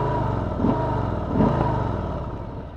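A brand-new 2020 Harley-Davidson Softail Street Bob being ridden gives a steady, low engine rumble with two brief swells in power, heard alone without any voices.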